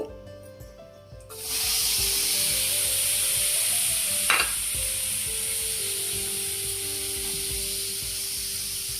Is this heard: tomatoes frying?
yes